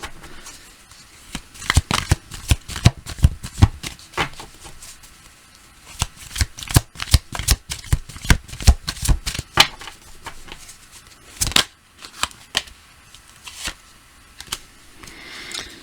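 Tarot cards being shuffled by hand, a run of crisp riffling and slapping bursts in an irregular rhythm, close and clear with no talking.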